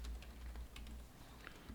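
Keys clatter on a computer keyboard while accounting data is entered in Smart A software, a quiet run of clicks including a press of the F2 key, faint and close with no voices.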